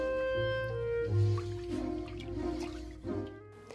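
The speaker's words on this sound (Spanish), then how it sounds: "Ahora pondré el resto de la leche, debe ser un litro. También la cáscara de limón." A litre of milk with lemon peel is poured into a cooking pot, giving quiet dripping and liquid splashing over a low steady background hum.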